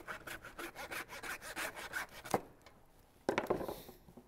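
A handsaw cuts through pork bone while a pig is butchered into bone-in chops, producing a rapid series of close, rasping back-and-forth strokes that stop abruptly before a final short pass.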